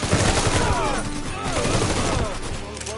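Heavy gunfire crackles in the video game Mafia 3, a dense, continuous barrage of loud close shots that overlaps with bits of shouting voices.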